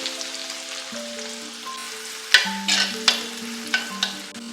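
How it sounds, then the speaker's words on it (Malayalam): Chopped onions drop into hot coconut oil with mustard seeds and dried red chillies, frying with a steady sizzle and several sharp crackling spits and stirring scrapes; close and alone, with no talking. "നമുക്ക് സവാള ചെറുതാക്കി അരിഞ്ഞതും കൂടി ഇട്ട് കൊടുക്കാം"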